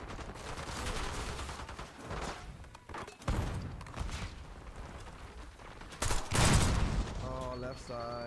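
Dense, loud gunfire in Black Ops 6 Zombies, with heavy booms from grenade blasts mixed in. The chaotic bursts ebb and swell, with a strong blast late on, and some faint voice-like sounds mixed in.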